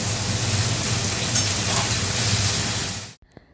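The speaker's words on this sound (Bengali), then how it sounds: "আর সাথে আলু ভাজছি" Steady loud sizzling of potatoes frying in hot oil, continuous for about three seconds before cutting off abruptly, followed by a few faint clicks.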